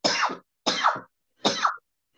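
Three separate coughs, each short and harsh, spaced with brief pauses of silence between them, close to the microphone.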